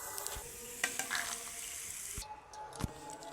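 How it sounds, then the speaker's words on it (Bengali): Peanuts fry in hot oil, giving a continuous sizzle broken by sharp scrapes and clinks of a utensil stirring them in the pan, close and fairly quiet. "আমার বাদামগুলো প্রায় ভাজা হয়ে এসছে দেখুন।"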